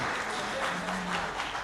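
Audience applause at an international Urdu poetry mushaira in Bahrain: a short, steady burst of crowd clapping at moderate distance with no clear speech.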